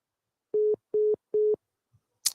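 Three evenly spaced steady tones of a telephone busy signal follow a hung-up call on a phone with a bad connection, followed by a brief click.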